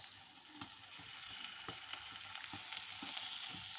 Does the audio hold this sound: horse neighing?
no